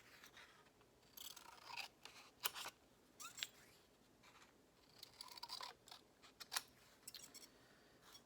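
Scissors snip through a paper tag by hand in short, quiet bursts of cutting and rustling, irregularly spaced with brief pauses between cuts.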